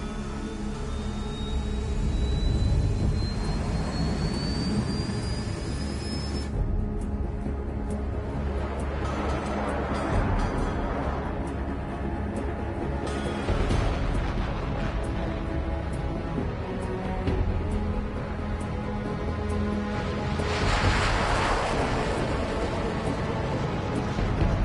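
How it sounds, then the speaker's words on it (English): A jet plane in Ace Combat 7 takes off and accelerates, a dense continuous engine roar with a thin rising whine early on and broad surges swelling through the run. "All this plane could do was take off, accelerate, and fly up"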